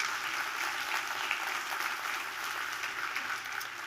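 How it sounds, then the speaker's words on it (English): An audience at a community and sustainability briefing breaks into applause, a dense, even wash of many hands clapping that holds steady throughout. "I think applause is appropriate"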